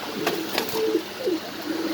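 A pair of Spanish gorgorio pigeons on a pigeon farm gives soft, low coos, a few short rolling calls close by over a hissy background.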